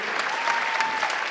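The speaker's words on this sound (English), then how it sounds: "Big round of applause for Hive ID." Audience applause at a startup pitch competition after a founder's pitch, steady dense clapping from a crowd filling the whole moment at moderate loudness.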